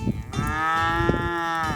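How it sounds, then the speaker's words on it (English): Cattle on a Texas ranch: a single long, loud cow moo close by, drawn out over nearly two seconds with a brief rustle before it. "Little cow, supper time."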